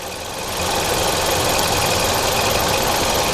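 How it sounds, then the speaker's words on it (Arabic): A car engine with a fault idles roughly and unsteadily, shaking hard; after a brief quieter start it settles into a loud, close, continuous rumbling drone with no voices. "هنلاحظ المحرك فيه اهتزازات"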